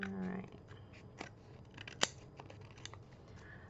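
Scissors snip through paper cardstock in a few short, quiet cuts with one sharper clip near the middle, set against a soft room background.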